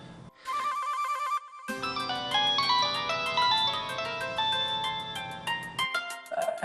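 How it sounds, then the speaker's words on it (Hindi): A mobile phone ringtone plays a loud, bright electronic melody: a brief repeated tone first, then a fuller layered tune that rings on steadily with no talking over it. "इसका फोन है।"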